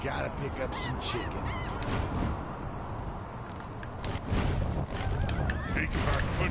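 Chicken clucking and fowl squawks in the Fortnite video game on PlayStation, a busy run of honking bird calls over constant game noise and music, with a voice talking faintly at times.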